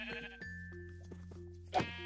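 Sheep bleating in the video game Minecraft: one loud, wavering bleat near the end over a quiet background of steady game tones, close and clear.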